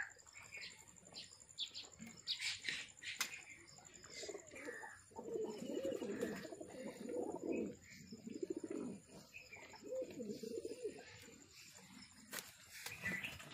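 Several pigeons coo softly in a loft, repeated low throaty rolls overlapping at a moderate distance, with faint chirps and occasional wing rustles between calls.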